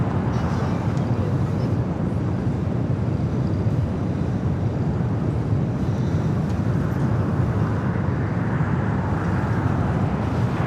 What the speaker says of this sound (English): Next takeoff, Alaska Airlines Flight 597 heading to Honolulu with 737-900ER